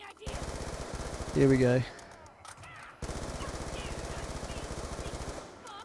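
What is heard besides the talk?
Galil rifle gunfire in Black Ops 2 Zombies video game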